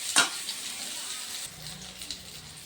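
Green jackfruit pieces fry lightly in a pan, added in small batches, giving a soft, steady sizzling hiss with a sharp crackle near the start and small pops scattered through the quiet background.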